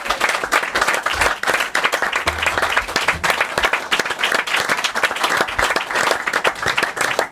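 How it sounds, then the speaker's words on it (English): Sustained audience applause with dense clapping that swells and dips slightly across the stretch, loud and close, following a call for a big round of applause in a TV studio. "capacity crowd, give Jason Dozzell, he's one of our own, a big round of applause."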